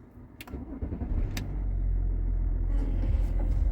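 A Range Rover Vogue 3.0 engine with about 471,000 km cranks and catches after a couple of brief key clicks, then settles into a steady low idle rumble, close and fairly loud.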